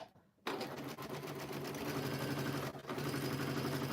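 A long arm quilting sewing machine starts up after a brief pause and runs steadily, its rapid needle chatter and motor hum loud and close, dipping once before carrying on.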